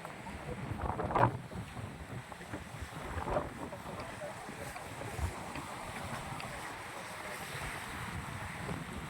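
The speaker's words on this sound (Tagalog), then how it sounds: "Sobrang lakas ng hangin." Strong wind roars and buffets the microphone outdoors at Pantabangan in the Philippines, with mountain views, a few louder gusts and faint background noise throughout.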